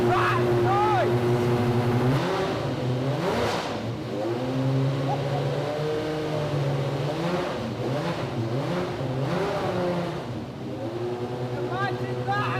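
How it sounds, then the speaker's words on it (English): A 700 brake horsepower car engine with 615 pound-feet of torque roars loudly and steadily throughout, its pitch rising and falling with revs. "700 brake horsepower, 615 pound-feet torque, and that noise!"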